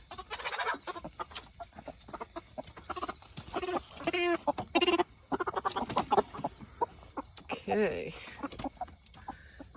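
Chickens cluck and squawk in a pen of about ten birds as they are sorted into cages on butchering day, with close, busy bursts of fowl calls mixed with people talking nearby.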